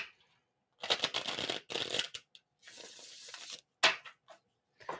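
Tarot cards are shuffled in several close, crisp bursts of riffling and sliding, separated by brief pauses, with no voices over them.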